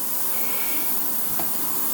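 A no-drip gel lubrication spray sprayed from a can onto a machine quill in a workshop, a continuous even hiss that holds steady at close range throughout, with nobody talking.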